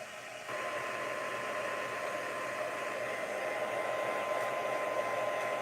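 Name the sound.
hair dryer drying acrylic paint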